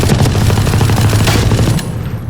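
Ares machine gun in Valorant firing a sustained automatic burst for nearly two seconds, loud and dense with rapid rounds, then cutting off into a short fading tail.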